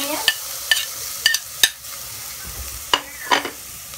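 Garlic frying in a pan, a spatula striking and scraping in about seven sharp, close hits over a faint sizzle.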